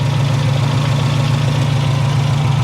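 A 1966 Fiat 1500 Cabriolet engine idles steadily up close, a loud, even low rumble with a constant hum and no voices over it.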